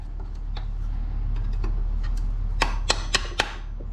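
A putty knife is tapped into a joint to separate a part on an old Toyota Camry during oil leak repairs, heard as four sharp metallic taps in quick succession near the end over a steady low hum.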